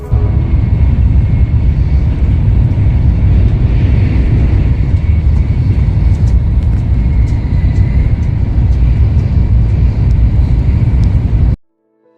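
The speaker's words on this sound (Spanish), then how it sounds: "Y suena así como un silbido de fondo, como de un avión, como si tuviera una pequeña turbina." Steady interior hum of a Japanese Shinkansen high-speed train with a faint turbine-like background whistle, loud and continuous with no talk, cutting off abruptly near the end.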